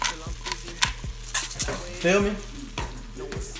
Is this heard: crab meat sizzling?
yes